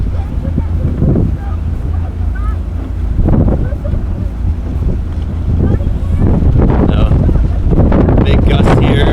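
Strong gusts of wind buffet the microphone in rising surges during a 2015 lightweight men's rowing race, a low roaring rumble that swells and fades while a voice talks over it.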